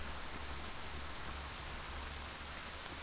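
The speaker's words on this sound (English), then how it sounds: "I'm gonna stand in the rain." Steady rain falling in the video game ArmA 3, a dense, even hiss of continuous rainfall with no breaks and no voices over it.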